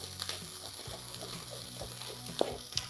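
Thinly sliced garlic frying gently in hot tuna oil gives a quiet, even sizzle with occasional small pops and a light utensil tap, heard up close with no one speaking.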